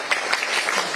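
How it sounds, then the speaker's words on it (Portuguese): A studio audience claps during a Brazilian TV news programme, a brief burst of dense, steady applause with a few sharper individual claps, moderately loud and continuous. "Recebendo os aplausos"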